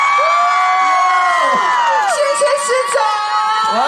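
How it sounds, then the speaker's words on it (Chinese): A crowd at a lantern festival and Lantern Festival evening event in Yuanlin, Changhua screams and cheers loudly for the mayor, with shrill voices and whoops rising and falling together close by. "你们想要的话，请尖叫声给我们的市长来一下。"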